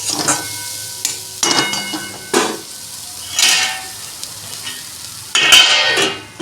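Frying sizzles in bursts as a utensil scrapes and stirs brahmi greens and potatoes through the pan, with clinks of metal between the louder strokes.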